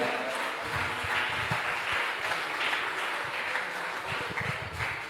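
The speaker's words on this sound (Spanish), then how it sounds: "Dele palmas al Señor." A church congregation claps at an evening service, a fairly faint but steady sustained patter of many hands with no one speaking over it.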